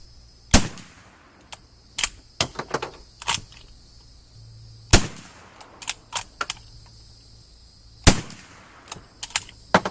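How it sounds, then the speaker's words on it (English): An Ishapore 2A1 rifle fires 200 grain cast .308 bullets outdoors: several loud, sharp cracks at irregular intervals, with fainter distant pops and a steady high insect-like drone in between. "Nice shooting, Tex"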